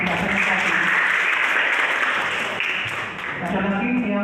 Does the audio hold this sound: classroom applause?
yes